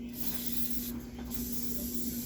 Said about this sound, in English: we're going to take some cooking spray, just some good old generic cooking spray, and we're going to spray the inside of a pan